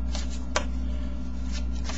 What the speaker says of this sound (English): you want to give them the shuffle, and don't disturb the top card, of course